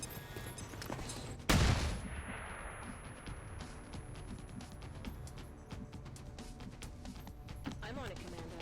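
A flashbang grenade goes off in XCOM 2 as one loud, sudden burst with a bright metallic clang, then a ringing decay. Game ambience and a talking voice continue underneath and afterward.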